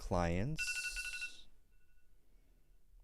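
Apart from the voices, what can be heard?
phone alarm timer ringing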